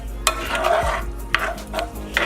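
Vegetable bouillon being stirred into a vegan tofu scramble in a pan, with a few sharp utensil scrapes and knocks against the pan over a soft, steady background, close and alone.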